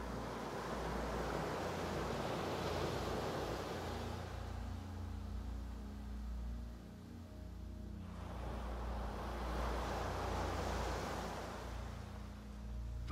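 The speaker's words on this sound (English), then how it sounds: "let the creamy, breaking waves lap around your ankles." Ocean waves breaking on the shore, heard as soft distant surges of surf that swell and recede twice over a low steady rumble.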